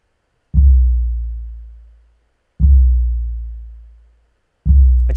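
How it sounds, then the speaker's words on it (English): Ludwig floor tom shaped with EQ and gating into a deep, 808-like boom, three evenly spaced hits, each a loud low thud that holds briefly and then fades smoothly, heard alone. "But with a few EQ adjustments and some gating, I was able to get the floor tom to sound like this."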